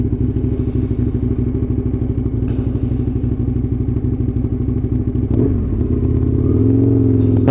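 Aprilia RSV Mille motorcycle riding with a steady loud engine drone and wind, then a shift in tone near the end as the rider comes in on a hard front brake.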